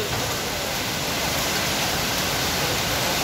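Steady rain falls without a break, a dense hiss at an even level for the whole stretch, with no voices.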